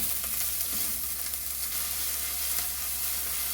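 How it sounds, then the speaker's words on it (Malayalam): Thinly sliced small onions fry in a pan for Kerala-style prawn curry, giving a steady, even sizzle that runs unbroken at a moderate level with no talking. "ഇപ്പോൾ ചുവന്നുള്ളി ചെറുതായിട്ടൊന്ന് ഫ്രൈ ആയിട്ടുണ്ട്."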